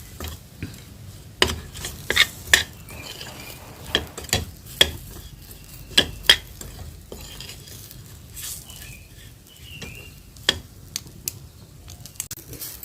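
Crushed peanut powder and masala being roasted in a pan for a ridge gourd dish, a soft, low sizzle broken by scattered clinks and scrapes of a spoon stirring against the metal.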